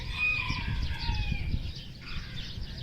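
A rooster crows at a bird park, one loud, close, drawn-out call with a second rising phrase, heard over a steady outdoor background.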